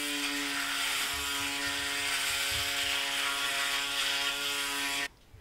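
A Panasonic ES-RT37 electric shaver runs with shave gel, giving a close, steady buzzing hum that stays even for about five seconds, then cuts off abruptly.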